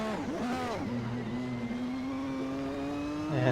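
A race car brakes hard and downshifts from fourth to third gear at Monza in Assetto Corsa, the engine note dipping and blipping before settling into a steady drone, then rising again at the end.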